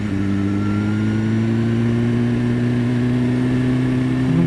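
A 2015 BMW S1000RR superbike engine runs at a steady, loud, held rev in sport mode without climbing, a continuous droning tone with no voices.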